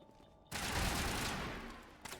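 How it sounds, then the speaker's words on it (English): Video game gunfire: a dense, loud burst of rapid overlapping shots lasting about a second and a half, then a short trailing crack, with no voices. "What the fuck are you guys shooting at?"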